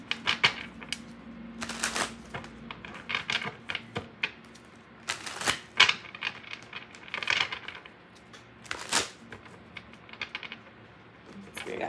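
Tarot cards are shuffled up close, with repeated crisp riffling and slapping bursts at irregular intervals and soft handling noises between them.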